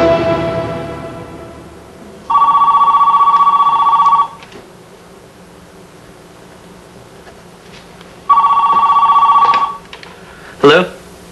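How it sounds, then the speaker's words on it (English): A cell phone ringtone sounds aboard an aircraft flying at 1,000 feet, two clear electronic rings of about two seconds each separated by a pause, loud and close over steady cabin noise, with a brief chirp at the end. "We begin by phoning with Company A's cell phone."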